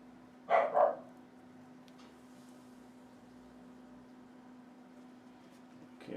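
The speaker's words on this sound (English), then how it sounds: "And that's my little dog." A small dog gives two quick, fairly close barks right at the start, followed by a long quiet stretch with a steady electrical hum and faint room noise.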